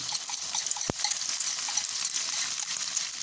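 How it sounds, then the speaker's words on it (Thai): Beaten eggs with cha-om acacia shoots frying in a hot pan, a continuous bright sizzle with a few stirring scrapes and one sharp knock near the start, no voices. "ผัดไข่ไส้ชะอม"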